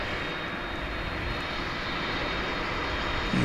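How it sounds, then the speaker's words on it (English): An American Eagle Embraer 175 arrives at DFW International Airport at daybreak, its jet engines giving a steady, even roar that holds without letup and without voices. "American Eagle plane coming in from Jackson"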